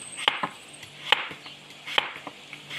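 A knife cuts vegetables Romblon style with a few crisp, close chops spaced unevenly on a board, with soft scraping between the cuts.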